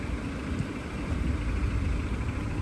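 The engine of a single-owner, low-mileage 1998 Acura Integra idles steadily at close range with the air conditioning running. It gives a constant low hum and rumble with no revving.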